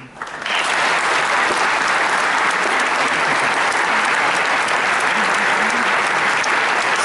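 Loud, sustained applause from a concert audience at a tribute concert for the Cursed Soldiers, a dense even clapping that swells in and holds steady without talk.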